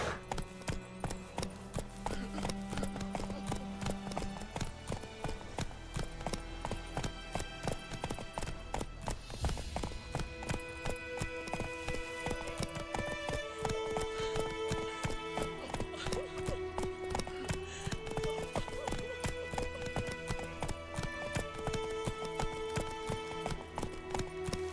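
Roach the horse gallops in The Witcher 3, a dense, rapid clip-clop of hooves running throughout with a whinny early on, layered over game music and effects.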